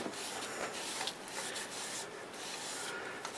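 Steady soft rubbing of a cloth wiping finish onto a turned wooden bowl, continuous and close, with no voices.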